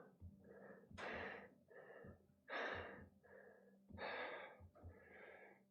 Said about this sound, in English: And then some heavy breathing.